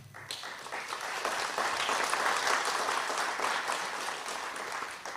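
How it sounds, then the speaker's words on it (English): Sustained applause from a conference audience thanking a panel at a service-learning conference in Africa, a dense steady patter of many hands that swells and holds for several seconds before tapering slightly. "I want to invite you to give them a round of applause"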